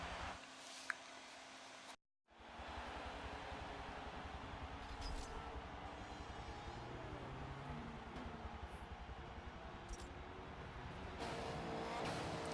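Racing engine of a Honda Civic in the Forza 7 video game, lapping Watkins Glen in a short race: a steady, loud drone of engine and road noise with shifting pitch, broken by one brief dropout near the start.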